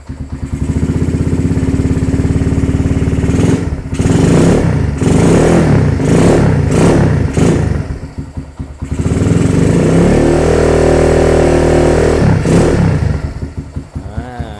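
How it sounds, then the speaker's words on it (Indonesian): Honda CB motorcycle with a stock standard engine, loud close revving with repeated throttle blips rising and falling over a steady idle, a short dip, then another sustained rev climb. "Karena ini mesinnya standar, jadi ya suaranya nggak bisa garang kayak yang biasanya kita bikin kalau speknya up ya"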